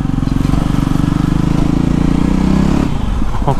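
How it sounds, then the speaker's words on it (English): A BS6 JAWA motorcycle engine accelerates from low RPM, a loud, close, steady throbbing drone that holds strong throughout, with a brief shift in tone near the end. "acceleration in low RPM is awesome in this bike"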